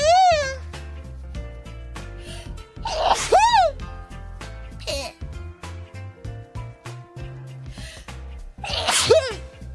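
Sneezes from a young woman repeat through the stretch: one at the start, a loud one near the middle and another near the end, each a sharp burst over a faint musical backing.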